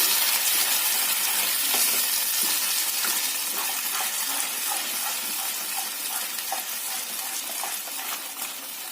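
Ground rice frying in hot ghee for halwa, stirred continuously: a loud, steady sizzling hiss fills the whole stretch, with faint scraping strokes of the spoon against the pan recurring underneath.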